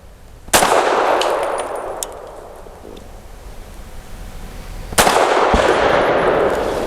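Suppressed Tisas Bantam 9mm pistol firing at a steel spinner target about 15 yards away, two loud muffled shots several seconds apart, each followed by a long washy decay with a faint metallic ring.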